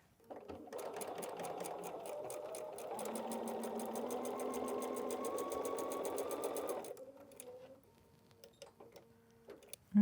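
A sewing machine stitches a seam in quilt fabric: a fast, even mechanical whirring with rapid needle ticks runs for several seconds close up, then slows and stops, followed by faint handling noises.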